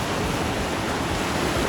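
Ocean waves wash up on the rocky California coast at Cayucos, a steady, full broadband rush of surf that stays constant and close with no talk over it.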